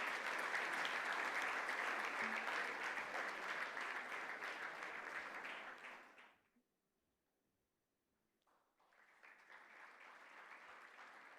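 Warm audience applause at a gala dinner, many hands clapping loudly and steadily, fading to near silence midway before a second, softer wave of clapping rises again.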